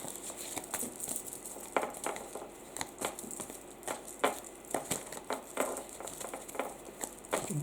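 Soft, dense rustling and light slaps of cards being shuffled, a steady run of quick papery flicks close by, with no talking.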